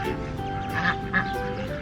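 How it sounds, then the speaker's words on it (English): Ducks quacking at a dairy farm, a few moderate quacks rising over a steady outdoor background, with faint voices around. "Look at all the duckies."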